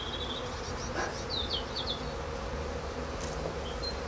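Honey bees buzzing steadily during a March hive inspection as frames are lifted out, a close, continuous drone with occasional louder passes of individual bees, no voices.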